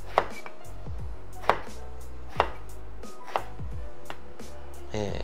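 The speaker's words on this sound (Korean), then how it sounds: "가지 다 썰었습니다" A knife chops through eggplant on a cutting board in five sharp, evenly spaced strokes, each a crisp thud, close and clear with no talking.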